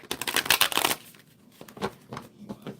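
Tarot cards are shuffled by hand in a quick, crisp riffle of flicking and slapping paper lasting about a second. Softer, intermittent card handling and shuffling sounds follow close to the microphone.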